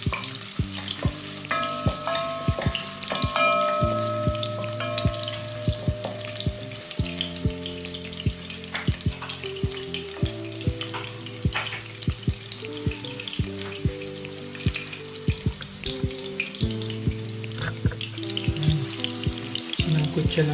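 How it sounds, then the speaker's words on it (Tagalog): Garlic and ginger sautéing in a pan for Filipino tinola with lapu-lapu fish, a continuous close sizzle broken by repeated stirring scrapes and clinks, with no talk. "Sinangkutsa natin ang bawang at saka ang luya"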